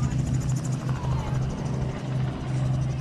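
Aerobatic aircraft flying at the Barossa Air Show 2021, a steady droning engine with a pulsing throb, heard at a distance and partly under talk.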